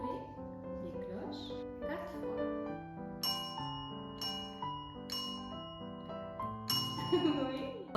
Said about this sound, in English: You are going to play the red bell 3 times.